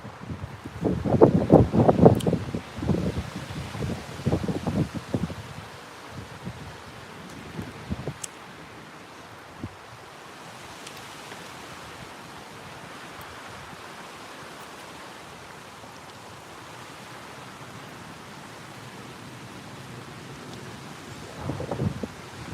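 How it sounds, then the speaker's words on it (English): Strong outdoor wind buffets the microphone in a steady roaring rumble, with heavier gusty bursts in the first few seconds, then a constant lower blustery hiss. "It's so windy, it's making my tripod move."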